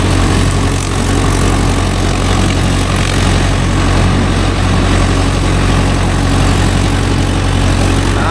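A Mahindra Yuvo Tech Plus 585 4WD tractor running a 42-blade rotavator, its heavy diesel engine droning loud and steady throughout with a dense, continuous churning roar.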